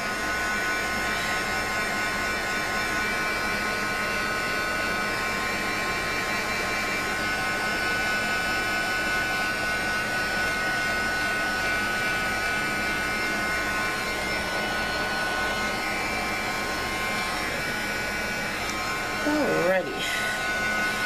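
A handheld heat tool dries freshly stamped ink on a mixed media doll stamping project, giving a steady, loud whirring blow that runs unbroken for about twenty seconds before a brief clatter near the end.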